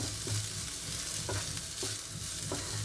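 A chopped chili mixture fries in hot oil with a constant crackling sizzle, as a spoon stirs it in a regular rhythm, producing soft repeated scrapes against the pan.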